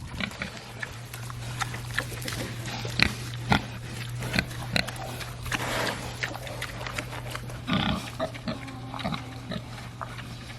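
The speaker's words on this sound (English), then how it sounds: "You goofy pigs are on the wrong side of the fence." Pigs on the wrong side of a fence grunt, snuffle and root in short bursts, with occasional thumps and a steady low hum underneath, close by and moderately loud.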